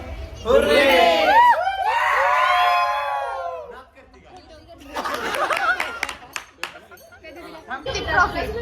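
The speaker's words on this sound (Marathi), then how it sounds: "एकदा ओरडा माझ्या ब्लॉगसाठी" A college crowd at a campus event shouts and cheers loudly in a rising, overlapping burst of whoops and screams, then falls to chatter before another wave of shouting, with people talking nearby.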